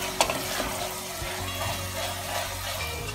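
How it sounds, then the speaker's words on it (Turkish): Ground meat sizzling steadily as it fries in a pan, with occasional scrapes and clatters of stirring over the constant crackle. "Kıymamızı iyice kavuralım."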